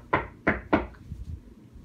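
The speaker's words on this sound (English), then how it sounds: "So the wolf knocked on the door" Three sharp knocks on a wooden door in quick, slightly uneven succession, close and clear, followed by faint low thuds, during a Three Little Pigs storytime.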